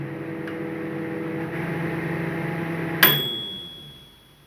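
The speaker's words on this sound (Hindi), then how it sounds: "तो ये आपने घंटी सुन ली।" A microwave hums steadily, then a single bright timer ding rings out and slowly fades as the hum stops.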